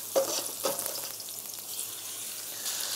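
Beef fillet frying with garlic in a hot pan, a steady close sizzle with a few sharper crackles and stirring clatters near the start, no talking.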